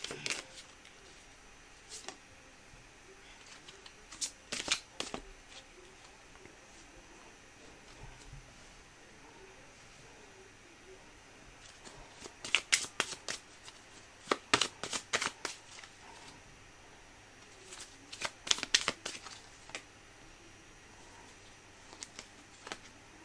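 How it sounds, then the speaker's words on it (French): Tarot cards shuffled for a reading, heard as quiet bursts of riffling and patter in a calm room, with several louder clusters of flicking cards separated by softer, near-silent stretches. "on va procéder au tirage"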